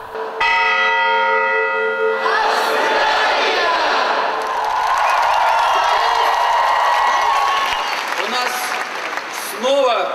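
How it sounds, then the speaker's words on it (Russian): Ceremonial bell strikes opening the World Choir Games in Sochi: a resonant ringing bell tone sounds first, then gives way to a large crowd's sustained applause and cheering. "прозвучало 5 ударов колокола, которые символизируют 5 континентов Земли"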